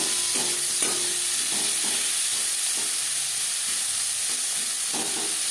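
Three medium onions and a tomato fry in a pan, producing a continuous bright sizzle with scattered stirring taps and scrapes, close and even in level, without talk.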